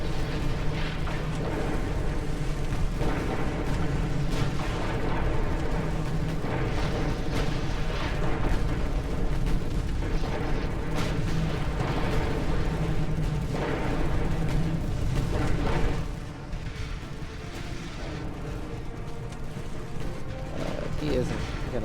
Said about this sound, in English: You guys start firing on that ship there.